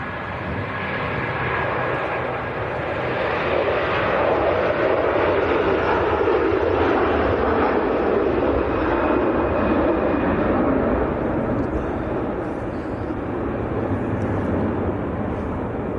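A jet at Manchester Airport roars steadily on the runway, a loud sustained engine rumble and whine lasting throughout with no break.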